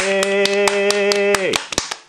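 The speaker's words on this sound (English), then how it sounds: "Now clap your hands." About a dozen sharp, close hand claps from children land at an uneven pace over a sustained sung tone. Once the tone drops away, a few last claps sound almost alone.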